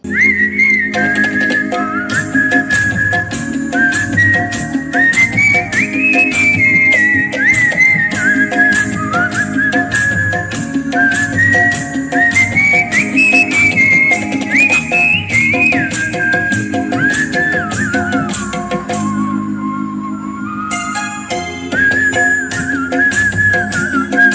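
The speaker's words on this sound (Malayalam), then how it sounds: "അവതരിപ്പിച്ച വിസിൽ സംഗീത സദസ്സും" A whistling music performance at a protest gathering held by a hospital protection committee in Chalakkappara: a loud, continuous whistled melody sliding between notes over a steady rhythmic instrumental accompaniment, with no pause throughout.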